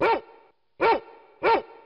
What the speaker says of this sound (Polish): Świetnie, to piesek.